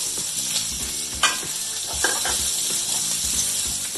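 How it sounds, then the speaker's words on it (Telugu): Onion and two green chillies hitting hot oil with cumin tempering for an aloo methi curry, giving a steady close sizzle and frying crackle with a few stirring scrapes throughout, no talking. "ఇప్పుడు మనం ఆనియన్ అండ్ 2 పచ్చిమిర్చి అండి వేసేస్తున్నాము."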